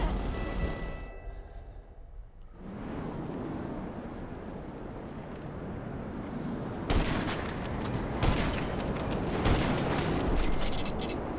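Gunfire in Grand Theft Auto rings out over a steady wind-like roar, with a few sharp cracks and a dense rattling stretch toward the end, moderately loud.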